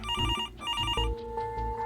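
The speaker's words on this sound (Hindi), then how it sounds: "फोटो की तरफ हाथ बढ़ाया ही था कि उसकी मम्मी का फोन आ गया।" A phone rings with an incoming call, a repeating electronic ringtone melody of bright tonal pulses, clear and close, shifting pattern partway through.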